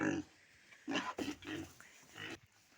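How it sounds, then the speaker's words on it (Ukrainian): Piglet on a village farm grunting in several short bursts, close and fairly loud, with a voice coaxing it between the grunts. "Ну, звісно, видно, що ти поросятко у мене."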